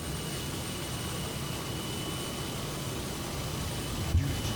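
A steady, faint aircraft engine drone from a departure in Microsoft Flight Simulator, a broad even hum with no speech and a brief soft bump near the end.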